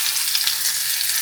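Chopped garlic frying in sesame oil after mustard seeds have popped, a steady close sizzle with a continuous hiss and no voices.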